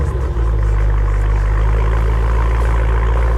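A sports car engine idles steadily and close, a deep, even rumble that holds without revving and with no one talking over it.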